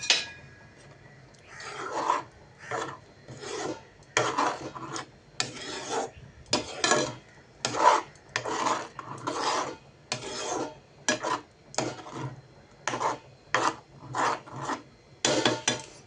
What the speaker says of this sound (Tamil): தேங்காய் எண்ணெய் ஊற்றி நல்லா மிக்ஸ் பண்ணி கிண்டிக்கலாம்